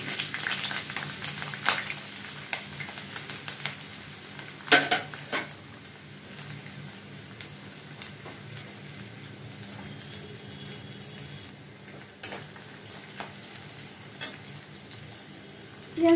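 Onion fries in hot oil in a heated kadai, a steady low sizzle running throughout with occasional clinks and stirring scrapes of a utensil against the pan.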